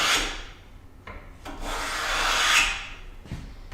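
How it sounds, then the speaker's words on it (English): A hand plane takes a full-width shaving off a board at a sliding tail vise, giving a couple of close, dry scraping swishes along the wood with short gaps between strokes. "then I need to take the full width shaving"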